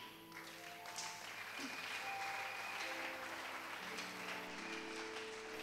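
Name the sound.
congregation applauding in church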